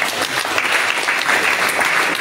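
Church congregation applauding to acclaim Jesus, a dense steady clapping from a full room, loud and sustained without pauses.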